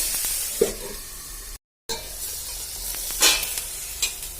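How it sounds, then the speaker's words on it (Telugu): Brinjal pieces sizzle and fry in a teaspoon of oil in a pan for a vegetable chutney, with steady close hiss and a few scraping stirs, briefly cut out midway. "వంకాయ ముక్కలు వేసుకొని కొంచెం ఒక టీ స్పూన్ ఆయిల్ అయితే వేసేసుకొని ఒక్కసారి కలిపేసుకొని"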